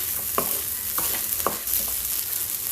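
A spoon scrapes three or four times through capsicum egg masala in a pan, short close strokes at a steady rhythm over a soft sizzle, with no talking.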